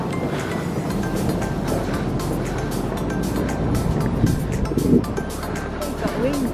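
Busan Port harbour ambience with a steady wash of boat engine and water noise, a faint repeated tone, and people talking nearby over the continuous background.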